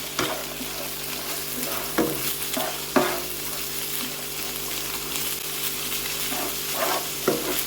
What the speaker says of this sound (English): we keep frying that until the onions and the meat is all cooked